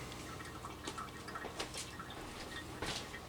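An ear of corn on the cob is rinsed under running water, with a soft, quiet splashing and dripping and several brief spattering bursts as the water breaks over it, with no talking.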